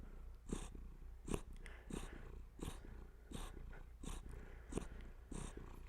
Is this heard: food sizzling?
no